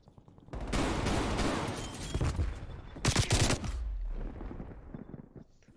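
Rapid close gunfire bursts in a Call of Duty match on the Nuketown '84 map, sustained automatic fire with a second loud volley, no talk.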